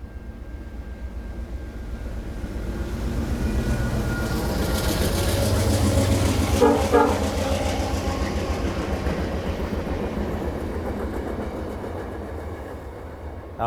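A VIA Rail stainless steel passenger train rolls past trackside, its rumble swelling as it nears and fading as it moves on, with clattering wheels and a loud passing peak midway.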